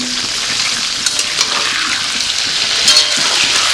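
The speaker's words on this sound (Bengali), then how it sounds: "আলুগুলোকে লাল লাল করে ভেজে নেব" Large potato chunks with salt and turmeric fry in hot oil with a loud, close, continuous sizzle, with a few light knocks of stirring scattered through.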